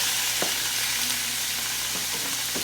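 Chicken frying in a little hot vegetable oil, a steady close crackling sizzle with a few faint scraping stirs.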